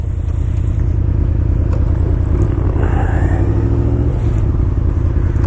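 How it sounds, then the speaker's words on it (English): A 2005 Yamaha V-Max cruiser motorcycle riding along, its engine a loud, steady low rumble with wind noise throughout and a slight rise in revs midway. "It's a fast cruiser bike."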